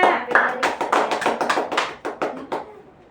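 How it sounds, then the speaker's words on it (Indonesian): Several pairs of hands clap in quick irregular bursts for a few seconds, close by, then taper off, in a university teaching-practice class. "Tepuk tangan sekali lagi untuk Risna Purwakanisa."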